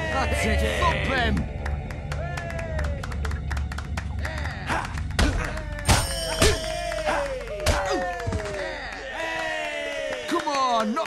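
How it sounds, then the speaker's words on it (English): Fist fight in the video game Fable Anniversary on Xbox Series X, with repeated heavy thumps and thuds of blows landing amid grunts and cheering voices, close and fairly loud. "That's it, thump him."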